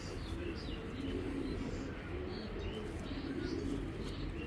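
A big-sized Kaldom pigeon coos softly and steadily in a loft, its low murmuring calls running continuously under faint bird chirps and background noise.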